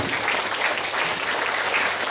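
Applause from an audience at a spiritual talk, a dense, even burst of many hands clapping together, loud and sustained throughout the short stretch with no voices over it.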